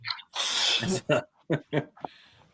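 A sneeze, followed by a short series of sharp nasal blasts as a man blows his nose, each burst separated by brief pauses, close and fairly loud.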